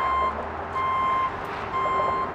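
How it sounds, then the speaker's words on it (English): A heavy-duty truck backs up while delivering 700-pound benches at an outdoor installation, its reversing alarm sounding three steady, evenly spaced beeps over a low engine rumble, loud and close. "the benches each weigh 700 pounds, so they had to bring in the heavy-duty truck."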